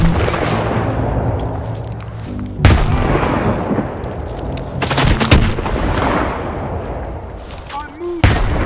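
Covering fire in Stalker 2: Heart of Chornobyl comes as loud gunshots and bursts of automatic fire, some close and sharp, others echoing farther off, over a rumbling battlefield with voices beneath.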